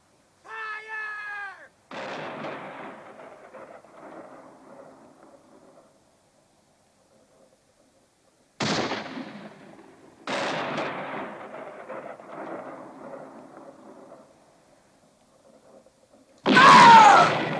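Rifle volleys crack out in a 1974 Western film battle scene, several loud sharp bursts, each trailing into a long rolling echo, separated by near silence, with a brief animal-like squeal at the start.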